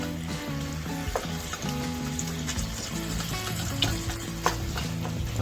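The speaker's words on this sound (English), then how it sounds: "We're gonna go ahead and get this browned up" Thawed hamburger meat browns in a pan for copycat tacos, giving a steady close sizzle with occasional scrapes and small pops as it is stirred.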